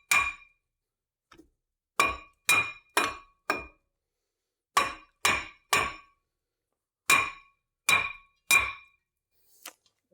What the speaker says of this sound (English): It seems like we need to use the sledgehammer.